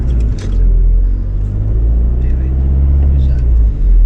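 A car engine drones loudly as a learner driver accelerates up a ramp during a driving lesson, a steady close rumble that holds throughout, with no clear revving peaks.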